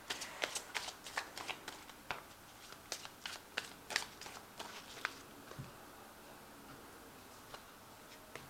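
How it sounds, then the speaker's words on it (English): A deck of tarot cards is riffled and shuffled in rapid crisp bursts, fairly close, then the flutter thins to a few scattered taps with no talking. "Now I have shuffled this deck."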